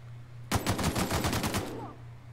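Rapid automatic gunfire in The Outer Worlds: a single loud burst of about a dozen quick, evenly spaced shots lasting just over a second, over a steady low background hum, with no voices.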